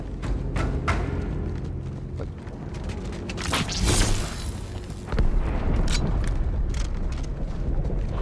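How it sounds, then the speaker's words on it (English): Explosion inside the ship Athens in the Halo 2 video game, a series of deep booming blasts and rumbles with creaking metal, swelling to a loud peak midway before a heavy sustained rumble continues. "That explosion came from inside the Athens."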